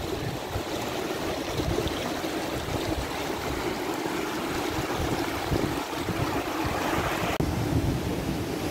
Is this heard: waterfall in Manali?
yes